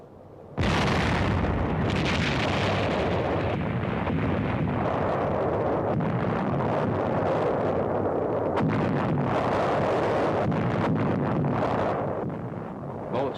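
Booming artillery fire from American guns massed in a university yard, archival WWII newsreel; a continuous loud, dense rumble of repeated blasts with wind-like noise throughout and no speech.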